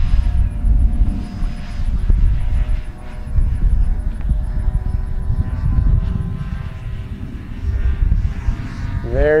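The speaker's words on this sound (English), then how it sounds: "it's just a real graceful flying airplane, guys" A Banana Hobby LX Models B-25 radio-controlled airplane with a 79-inch wingspan drones past in a steady, throbbing engine hum that swells and fades slightly, heard from the ground at a moderate distance.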